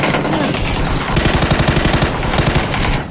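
Rapid automatic gunfire in the PC shooter game PUBG, a loud, continuous rattle of shots lasting about three seconds with no talk.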